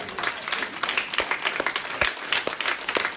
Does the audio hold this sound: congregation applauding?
yes